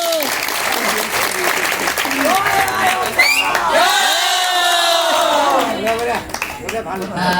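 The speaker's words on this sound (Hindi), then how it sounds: "जोरदार तालियां ऑडियंस के लिए" Theatre audience at a Rajasthani stage play performance in Assam bursts into loud, sustained applause with whoops and cheering; a crowd roar fills the whole stretch, with voices shouting over the clapping.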